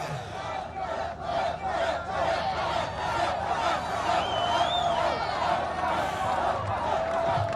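A large outdoor political rally crowd cheers and yells in rhythmic bursts, a dense roar of many voices with whistles rising above it, loud and sustained throughout.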